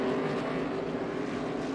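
NASCAR Xfinity Series race cars roar through a heavy braking zone at the Brickyard, a dense, steady engine drone that stays loud and even throughout with no talk.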